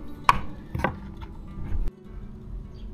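Fresh plant leaves chopped into small pieces with a knife on a board, a few sharp, separated thuds and taps, close and fairly loud, with quiet pauses between them.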